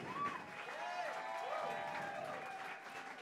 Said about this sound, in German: Applaus für Matthias Lebuchet und Lorenz Wieder.